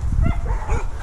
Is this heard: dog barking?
yes